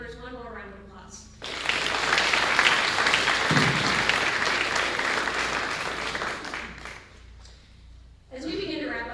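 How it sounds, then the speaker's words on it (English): An audience at a high school FFA chapter banquet breaks into sustained, loud applause that fades near the end, with a voice speaking just before and after the clapping. "Please join me in giving these members one more round of applause."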